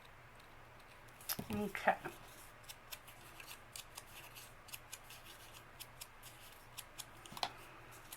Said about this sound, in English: I'm going to cut this down just a little bit.